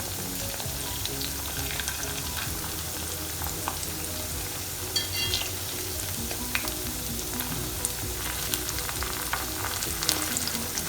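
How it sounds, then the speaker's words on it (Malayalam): Pieces of beef deep frying in hot oil for a Kerala-style dry fry, a dense, loud, continuous sizzle with occasional clinks and scrapes as the pieces are turned one by one. "ഇനി നമുക്കിത് ഓരോന്നോരോന്നായിട്ട് തിരിച്ചിട്ട് ഫ്രൈ ചെയ്തെടുക്കാം"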